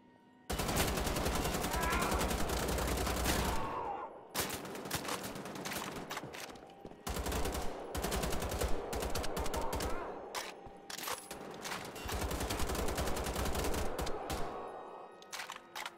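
Automatic shotgun in the shooter Wolfenstein: The Old Blood blasting in rapid, dense bursts, loud and close, with brief pauses between volleys.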